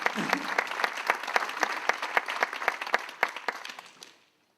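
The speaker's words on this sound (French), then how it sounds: "Je crois qu'on peut les applaudir, effectivement." Applause from the audience at the closing plenary of an energy transition round table, brisk dense clapping that carries on evenly and then stops abruptly.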